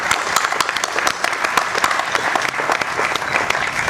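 Steady applause from an audience at a building dedication ceremony, dense clapping that holds level and fairly close throughout with no voices over it.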